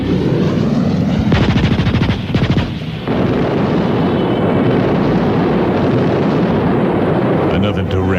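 Radio comedy sound effects of gunfire striking a car and its gas tank, from a 1982 Washington radio broadcast: loud, dense machine-gun rattles and booming impacts fill the whole stretch, with a heavier burst of rapid shots partway through.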